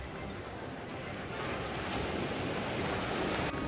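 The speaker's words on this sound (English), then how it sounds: "And the waves were getting bigger." Steady roar of ocean surf with waves washing in, mixed with wind buffeting the microphone, continuous and fairly loud throughout.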